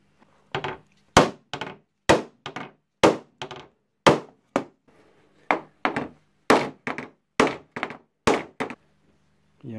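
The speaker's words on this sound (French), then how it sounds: "moi je vais utiliser un marteau en plastique pour éviter de marquer la peinture" A plastic hammer strikes a dented car body panel on a Renault Laguna 2 being straightened after a frontal crash: roughly twenty sharp, close thunks in irregular bursts of two or three, with brief pauses between and no talk.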